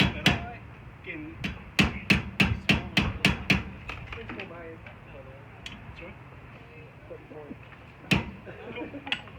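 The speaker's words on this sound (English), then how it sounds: "You'll notice I'm using the original hammer, which certainly working a lot better." Sharp hammer blows ring out on thin steel armour, struck with the original hammer: a quick run of about ten evenly spaced strikes, then scattered lighter taps and one more solid hit, with faint voices in the background.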